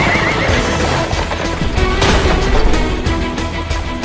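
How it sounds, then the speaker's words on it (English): A horse whinnies loudly up close while the hooves of a horse-drawn carriage clatter and clop beneath it in a busy, dense burst of sound. "This is a horse-drawn carriage."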